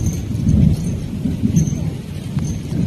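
Heavy rain pours steadily while thunder rumbles low underneath, forming a dense, continuous storm wash with no talk.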